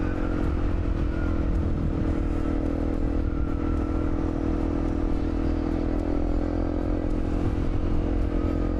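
A small Honda CRF motorcycle cruises on an open road at highway speed, its engine a steady, loud drone mixed with constant wind rush and no change in pace.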